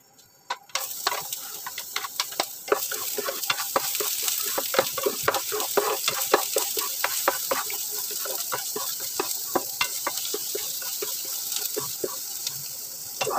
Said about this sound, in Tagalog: Igisa na natin yung bawang